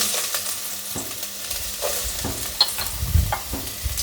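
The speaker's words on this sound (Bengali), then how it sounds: "আদাটা একটু লাল করে ভেজে নেব।" Chopped ginger and a little green chili fry in ghee in a pan for pulao, with soft crackling sizzle and several sharp stirring scrapes and knocks at irregular intervals, fairly close, with no talking.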